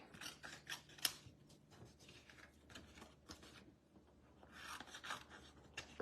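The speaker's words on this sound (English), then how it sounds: "Take my snips that I use for paper" Paper snips cut out paper shapes for a card-making craft kit, giving a series of crisp, close snipping and rustling bursts, busiest at the start and end, with no talking.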